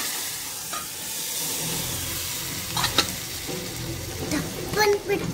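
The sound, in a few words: dal saaru added to sizzling fried onion tempering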